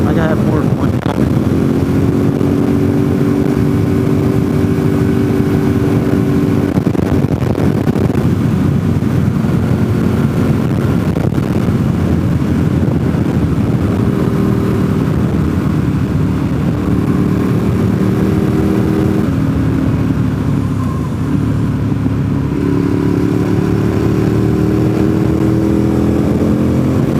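Motorcycle engine running steadily in construction-zone traffic, a loud continuous drone with slow pitch rises and falls and heavy wind noise throughout.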